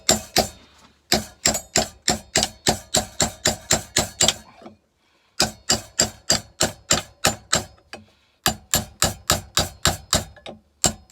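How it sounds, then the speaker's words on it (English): Steady, rhythmic metal-on-metal blows of a hammer driving a chisel on a workpiece clamped in a vise, loud and close, in regular runs with brief pauses between. "get a chisel, get an hammer"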